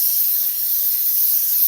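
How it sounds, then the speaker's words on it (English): Cooking spray hissing onto a pan in one continuous, bright, airy burst that holds evenly for under two seconds, close and fairly loud. "I'm just gonna spray the pan"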